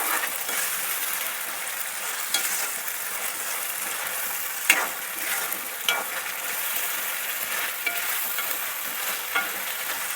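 Baby potatoes and curry leaves fry steadily in hot oil, a dense continuous sizzle with occasional stirring scrapes and a few sharper pops, with no talking.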